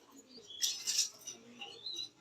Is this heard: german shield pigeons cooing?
yes